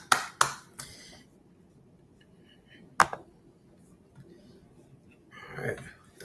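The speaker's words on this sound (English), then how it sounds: "clap it up" A few sharp, separate hand claps ring out in a quiet room during a Sabbath service, two close together at the start, then a single one later, with soft murmuring at the end.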